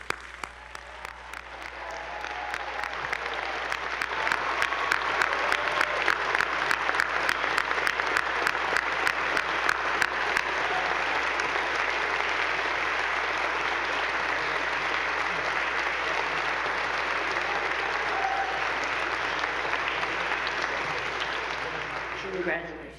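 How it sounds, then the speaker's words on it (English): Sustained applause from an audience at a college honors convocation honoring award recipients, swelling over a few seconds and holding steady and dense for about twenty seconds before tapering slightly. "we have no shortage of reasons to clap"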